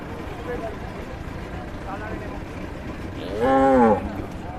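A large cow gives one loud, drawn-out moo near the end, rising clearly above a steady outdoor background of a cattle market at Katakhali, Rajshahi, with faint murmuring voices.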